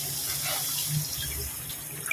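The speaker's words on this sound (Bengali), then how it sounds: "এবার আমি এই মশলার মধ্যে কিছুটা জল দিয়ে দেব।" Water poured from a container into a pan of fried spice paste for a tilapia fish curry, a short steady splashing trickle, close and fairly quiet.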